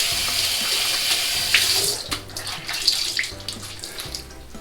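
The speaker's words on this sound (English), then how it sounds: "let's wash everything down with some cool water" Cool tap water runs steadily in a continuous close splash, rinsing down a freshly shaved head, with brief louder gushes and shifts in the flow partway through.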